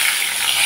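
Cumin seeds and bay leaf sizzle in hot oil left from frying jackfruit and potato, a steady bright crackling hiss that stays loud and unbroken throughout, with no talking.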